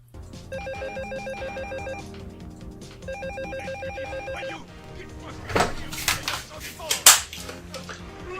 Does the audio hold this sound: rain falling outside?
no